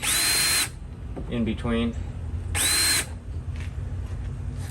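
A power drill whirs in two short, loud bursts, winding up and spinning, while a person speaks briefly in between, as it drills for iron pipe curtain rod brackets on a porch.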